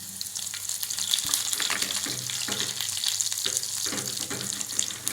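Dried red chilies and vadagam frying in hot oil for an oil brinjal kulambu, a dense steady sizzle with crackling pops and occasional spoon scrapes against the pan, close and continuous with no talking.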